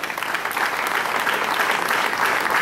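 Warm, steady applause from an audience at a civic ceremony in Papantla, greeting a town councillor as he is introduced. The dense clapping fills the space at an even level, with no voices heard above it.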